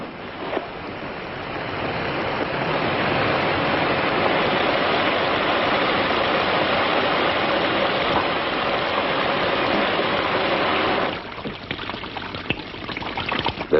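In an episode of the TV series Burke's Law, a shower runs with a dense, steady hiss of water. It holds evenly for about eleven seconds, then cuts off abruptly into quieter scattered sounds.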